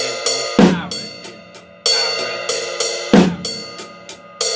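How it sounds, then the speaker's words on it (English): A drum kit plays a left-hand paradiddle, with sharp snare hits landing on the leading notes, ride and hi-hat strokes filling between them, and a steady, close, loud repeating pattern. "put the leading note of the left-hand paradiddle on the snare drum"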